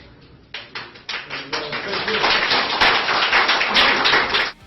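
Applause breaks out in a courtroom, scattered claps building from a few early bursts into a dense, sustained wash of clapping that holds for several seconds before cutting off, with faint voices mixed underneath.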